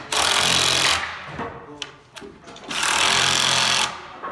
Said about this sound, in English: we can tighten up those nuts in a hurry because we have a hammer drill with a socket on it